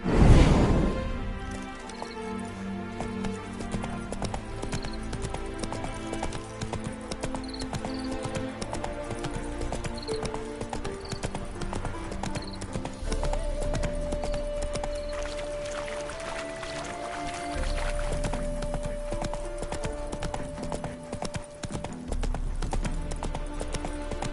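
Steady clip-clop of horse hooves in the video game Witcher 3: Hearts of Stone beats in a quick rhythm throughout, with a brief whinny and a faint ambient musical drone in the background.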